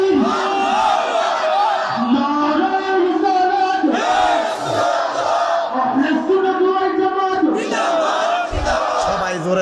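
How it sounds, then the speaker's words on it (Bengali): A large crowd roars a loud takbir together in unison, several swelling group shouts filling the space at close range with no break between them. "আর জবান খুলে জোরে একটা তাকবীর দে"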